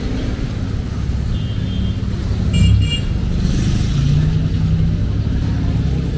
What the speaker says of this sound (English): Oh crap, cars.